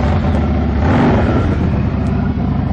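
A 2010 Harley-Davidson Dyna Fat Bob motorcycle idles close by, its V-twin engine a loud, continuous low throb with a steady lumpy rhythm and nothing else heard.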